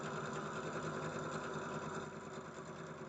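A sewing machine runs continuously while stitching quilt blocks, a steady rapid mechanical whir that eases slightly toward the end, with no voices.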